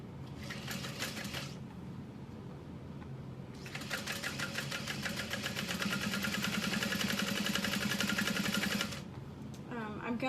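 A sewing machine with a size 19 needle runs bonded polyester 92 thread on a barrel bag, sounding as a short burst of rapid stitching, a pause, then a longer steady run of close, fast whirring.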